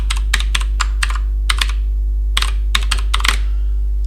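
A TeX macro typed on a computer keyboard: short clusters of crisp keystrokes with brief gaps, close and clear over a constant low hum, nobody talking.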